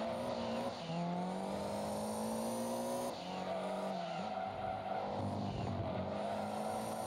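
Cerumo Toyota Supra race car in Gran Turismo 2 on PS1, its engine droning loudly and steadily with pitch shifts through gear changes and brief tyre squeal, no talking.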